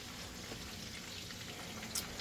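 Continuous crackling sizzle of chicken frying in oil, steady and close, with faint pops throughout.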